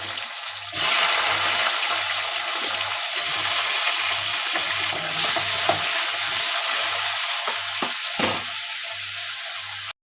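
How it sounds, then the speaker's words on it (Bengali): Bitter gourd slices fry in hot oil with a steady, loud sizzle running throughout, broken by occasional clinks and scrapes of a utensil in the pan. "উচ্ছেগুলি ভেজে নিব"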